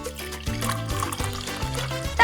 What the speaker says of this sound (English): Now I'll pour in soda.